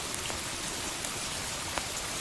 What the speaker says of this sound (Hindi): तुम इसलिए बारिश की बूंदें पीती हो?